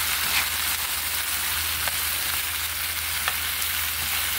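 Eggplant cooking in a pot of ginataang tulingan, a steady, close sizzle and bubbling hiss with a few faint stirring clicks, constant throughout.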